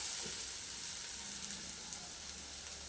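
Curry leaves and coriander leaves sautéing in a pan for a tuna fish cutlet filling, giving a soft, steady sizzle that holds at low level throughout, with no talk.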